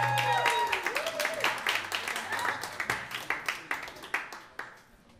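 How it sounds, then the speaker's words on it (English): Audience applause and scattered claps for band members at a live music session, starting as a dense crowd wash and thinning into individual sharp claps, with musical tones sounding underneath early on. "Please give a big round of applause for Dasha on bass."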